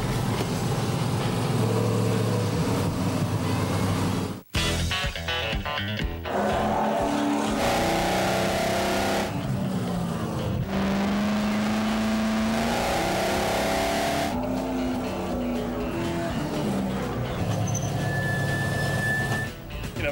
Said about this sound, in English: you're gonna hit the start button and the car should fire